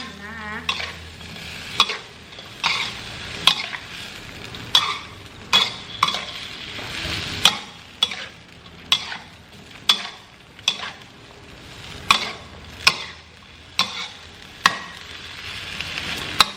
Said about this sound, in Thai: แล้วก็คลุกเคล้านะคะ ผักทุกอย่างให้เข้ากัน